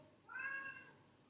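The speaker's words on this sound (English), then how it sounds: "my cat, which is making a lot of noise right now" A house cat lets out one short, drawn-out meow, heard alone and fairly faint in a quiet room.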